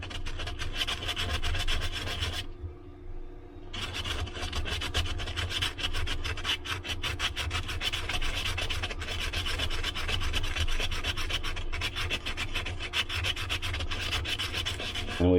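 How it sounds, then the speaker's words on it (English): Old sandpaper rubs over an aged wood carving in quick, steady back-and-forth strokes, close and continuous, with a short pause near the start before the gritty scraping resumes. "we'll take our old sandpaper here"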